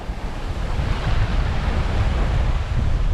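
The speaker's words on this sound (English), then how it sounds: "Lovely, lovely sailing wind." Strong wind and rushing waves surround a sailing yacht moving fast in about 13 knots of wind off the Isle of Arran, a loud, dense, continuous roar of air and water with no voices.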